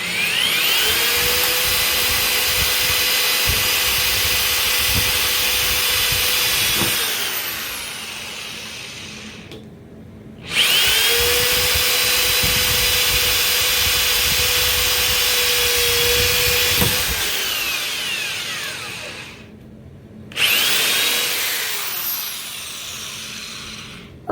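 A drill bit boring out a rivet in an old Digital DEC PC case: a loud, close, sustained whine in three long runs separated by brief pauses, with grinding metal texture.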